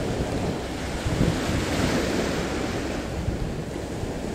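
Rough sea under an approaching storm roars steadily as waves and strong wind buffet the microphone, a dense unbroken wash of noise with no voices.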